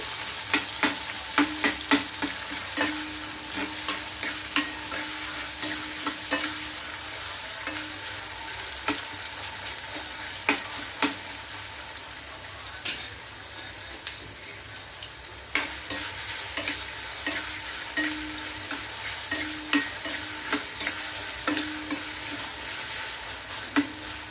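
Onion sautés in a pan with a constant loud sizzle, and frequent sharp clicks of a utensil stir it throughout.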